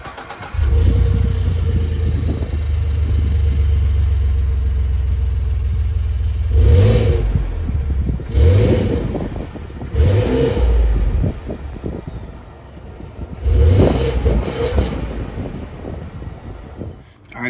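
A 2014 Ford F-150 EcoBoost with an MBRP 3-inch straight-through exhaust idles with a deep, close rumble, then revs sharply about five times, each rise in pitch fading back to idle.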